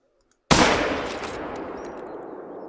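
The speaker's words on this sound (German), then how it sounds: "Okay, vielleicht schieße ich dir jetzt da rein." A single loud hunting-rifle shot in theHunter: Call of the Wild rings out after a brief silence, with a sharp crack followed by a long rolling echo that fades slowly.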